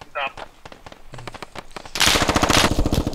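Rapid automatic gunfire from the video game Squad in a rooftop firefight, with short bursts early on and then a loud, sustained stream of shots, while players talk over it.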